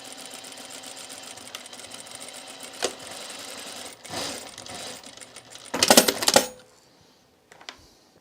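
A sewing machine runs a fine, short-length seam through dress fabric, a steady low mechanical whir with a few clicks, rising to a louder burst of rapid stitching near the end before stopping into near silence.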